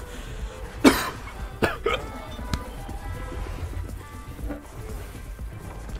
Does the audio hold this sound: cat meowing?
no